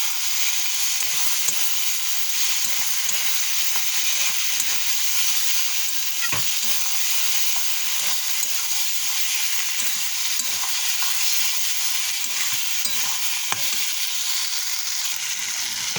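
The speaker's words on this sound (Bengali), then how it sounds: "আলুগুলো দিয়ে দিচ্ছি, দিয়ে আলুটা একটু কষিয়ে নেব" Potatoes frying and being stirred in a spice masala for a fish dish, a steady close sizzle with frequent scraping stir clicks throughout, no talking.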